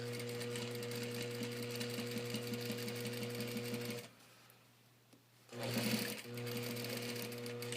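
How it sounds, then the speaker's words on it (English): A sewing machine stay stitches fabric with a steady, loud whirring drone that cuts out for about a second and a half before starting again briefly. "we're going to stay stitch this in place just like that."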